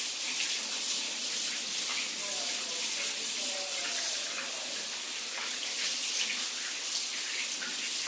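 Tap water runs steadily into a sink while makeup brushes are rinsed, a constant close hiss and splash with a voice faintly underneath.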